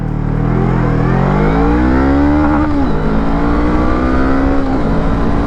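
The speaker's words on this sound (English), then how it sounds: "All right, we're gonna do a full 0 to 60 launch, and we'll just see what we can get done." A Honda Rebel 500 motorcycle makes a full-throttle 0 to 60 launch, its engine note climbing loudly through the gears with distinct drops at each shift and a brush against the rev limiter.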